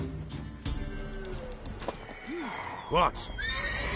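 Mare in The Witcher 3 video game whinnies with a rising, wavering neigh near the end as hooves clop, while voices talk briefly.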